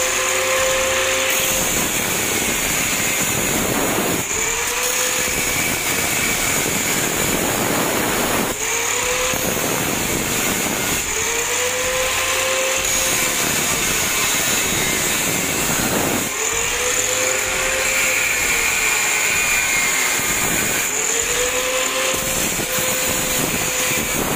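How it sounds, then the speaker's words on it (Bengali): A power cutter slices a groove for a pipe into a wall during switch board fitting, a loud continuous grinding whine that dips and rises in repeated passes, with no talk. "এখন আরেকটা পাইপের জন্য লাইন কাটবো।"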